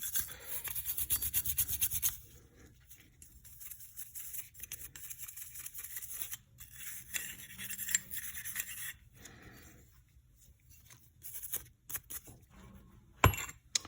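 A brush scrubs the firing pin and extractor area of a Colt 45 ACP pistol during cleaning, giving close, faint, irregular scratchy strokes with small metallic clicks and a louder tap near the end.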